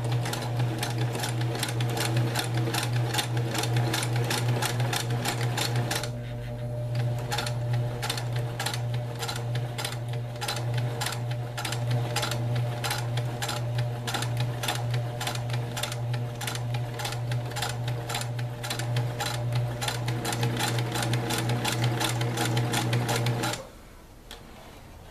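Domestic sewing machine stitching a dress-form pin cushion, running in a rapid, even needle rhythm that pauses briefly once, then continues before stopping near the end; close and clear with no talking.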